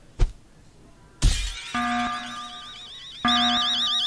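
An alarm from The Henry Stickmin Collection video game follows a sharp crash, sounding as a loud, steady wailing tone with a warbling siren layered on top, which steps up in loudness partway through.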